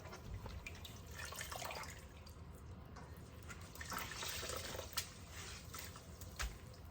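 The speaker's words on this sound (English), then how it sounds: "I'm just going to hand wring the basil" Water from blanched basil squeezed out by hand over a sink, a steady close wet trickle and splatter with a couple of louder drips near the end, no voices.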